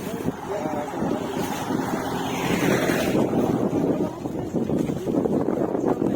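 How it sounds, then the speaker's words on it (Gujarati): Rainwater after heavy, still-continuing rain rushes steadily through Dhanera town, a loud, continuous broadband wash with wind-like buffeting and no pauses. "જોઈ શકો કેટલું પાણી ચાલી રહ્યું આ સાઈડ વરસાદ ખૂબ પડ્યો ચાલુ જ છે"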